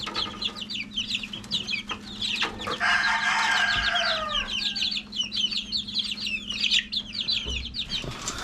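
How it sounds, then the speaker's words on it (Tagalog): Gold-breed chickens raised from hatched chicks cluck and call repeatedly in a farm pen, with rapid overlapping bird calls, a burst of louder squawking in the middle, and a low steady hum underneath. "So ito na yung mga napapisa nating mga sisiw."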